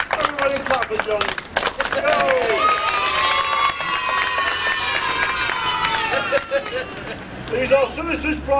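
Street crowd watching a head-balancing performer breaks into clapping and cheering, with shouts and a long sung or called-out voice rising over the noise, then scattered claps and chatter as it fades.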